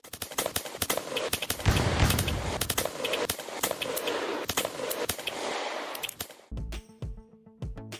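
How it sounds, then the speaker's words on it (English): Rapid gunfire crackles through a Cowboy Duel video game shootout in dense volleys of sharp shots, then stops abruptly and gives way to a short musical tone. "A simple little shootout game with oddly in-depth mechanics"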